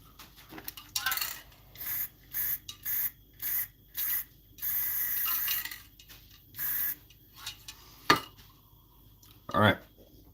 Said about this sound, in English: I'm going to give this one more spritz.